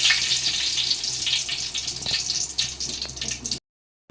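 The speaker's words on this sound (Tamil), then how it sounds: "கடுகு பொரிஞ்சிருச்சு" Mustard seeds crackle and sizzle in hot oil in a pan while a goat or chicken gravy is cooked, giving a steady hissing fry with scattered small pops, fairly close and without talk, then cutting to silence near the end.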